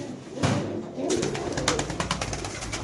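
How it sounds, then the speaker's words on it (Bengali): Fantail pigeons coo in a backyard pigeon garden, a soft repeated cooing that carries through the clip over a steady background of flock noise. "ফ্যান্টেল কবুতরের বাগান আল্লাহর রহমতে"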